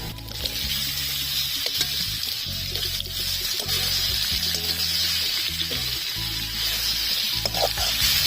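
Chopped apple frying in a pan with fennel, cumin and ginger for a sweet-and-sour apple chutney, a steady close sizzle broken by repeated scraping and stirring sounds.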